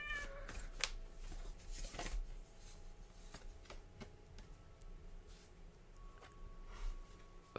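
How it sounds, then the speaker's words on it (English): A kitten meows indoors. The cries are faint, a few brief meows against a quiet room hiss with scattered light ticks. "My kitten just meowed when I said that."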